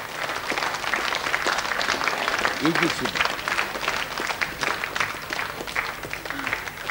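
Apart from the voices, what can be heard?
studio audience applause on TV game show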